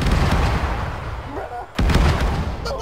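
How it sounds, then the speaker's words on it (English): Heavy explosions from bombs going off just behind a player in the video game Arma 3, set in a jungle, with a deep sustained rumble, a brief lull and then a loud fresh blast near the end. "the bombs are exploding right behind you"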